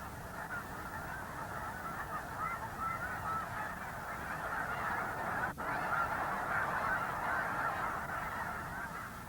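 A large flock of snow geese honks continuously in a dense, overlapping chorus, a steady wall of calls with no single bird standing out.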